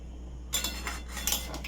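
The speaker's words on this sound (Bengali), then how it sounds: "এবার গ্যাসটা জোরে দিলাম, এবার এটাকে একটু ফুটবে, ভালো করে নেড়ে দিলাম" Spoon clinking and scraping in a wok of daliya khichuri on high gas, a few light metallic taps over a low steady burner hum, no voices.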